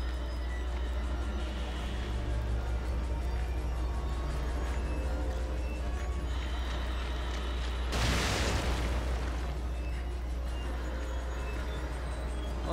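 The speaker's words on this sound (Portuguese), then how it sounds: "a granada não deu nem efeito" Grenade explosion in the horror game The Evil Within, a single sudden burst of noise partway through over a constant low hum and ambient game drone.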